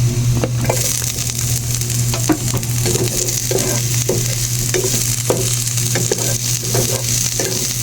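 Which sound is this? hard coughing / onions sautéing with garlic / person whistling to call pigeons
onions sautéing with garlic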